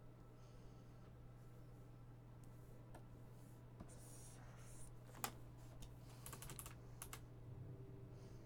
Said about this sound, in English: You love the sound of the pencil.